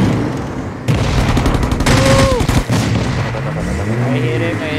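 Gunfire in the mobile shooter Rules of Survival rings out as rapid bursts of shots and booms, loud and close, mixed with game effects and a rising whine.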